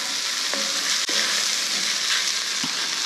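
Jambalaya sizzles steadily in a pan where flour has browned into a fond on the bottom, a constant bright frying hiss with a couple of faint utensil taps and no talking.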